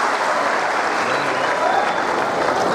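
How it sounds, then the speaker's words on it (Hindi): Loud, dense applause from an audience at a Teachers' Day ceremony attended by a chief minister, a steady wash of many clapping hands lasting throughout without pause. "जोरदार तालियों से क्षण का अभिनंदन कीजिए।"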